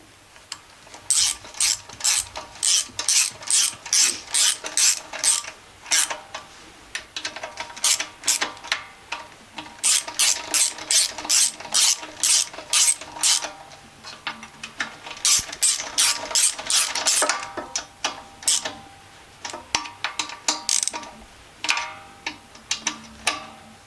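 Ratchet clicking as screws on a Biltema 2502 gasoline generator are tightened, loud close bursts of rapid pawl clicks in repeated strokes with short pauses between runs, no talk.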